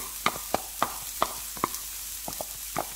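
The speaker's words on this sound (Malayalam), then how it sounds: "ഞാൻ ചെറുതായി അരിഞ്ഞിരിക്കുന്ന സബോളയാണ് ഞാൻ ഇട്ട് കൊടുക്കുകയാണ്." Finely chopped onions go into hot oil in a pan for a grilled fish masala, giving a soft sizzle broken by a series of sharp taps and clicks from stirring, with no talking.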